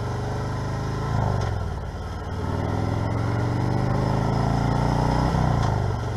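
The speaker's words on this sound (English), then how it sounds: "I love the sound of those pipes." Motorcycle engine rumbling through its exhaust pipes, a loud, steady drone that swells with two throttle surges, up close with no talking.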